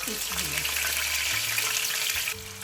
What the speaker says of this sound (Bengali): আমার তেলটা গরম হয়ে গেছে আমি এখন এতে দিয়ে দিচ্ছি ইলিশ মাছের